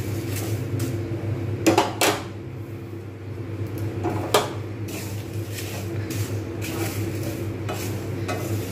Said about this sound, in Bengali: এইভাবে আমি কিন্তু আস্তে আস্তে সমস্ত মশলাটা কিন্তু নেড়ে নেব।